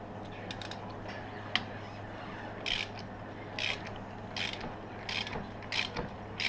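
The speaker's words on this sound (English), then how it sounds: "So I got a number 12 extension ratchet" A ratchet on an extension loosens the front brake caliper bolts of a Yamaha Raptor 700 ATV, giving bursts of close, dry clicking and creaking in irregular groups over a faint steady hum, with no talk.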